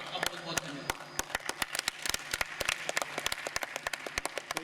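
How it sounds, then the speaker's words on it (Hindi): Sharp, separate hand claps ring out in an uneven rhythm at a poetry recitation event, a small group clapping rather than a full ovation, with a low murmur of voices underneath. "जज ने पहली बार ताली बजाई है"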